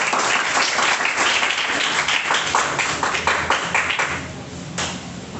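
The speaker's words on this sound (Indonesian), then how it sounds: "Tepuk tangan dulu dong buat kakaknya" An audience of students applauds a speaker at the close of a session, a full burst of many hands clapping that stays dense and then tapers off slightly toward the end.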